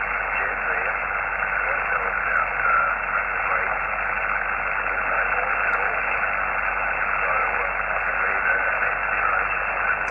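A steady hiss of ham radio static on the 40m band fills the clip, with a faint fading signal buried in the noise and no clear voice coming through.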